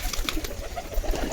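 A newly arrived pigeon coos at close range in a short, low burst, with other birds murmuring around it.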